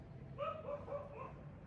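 Several dogs bark out in a street, a few short, moderately distant yaps and barks spaced across a steady background hum.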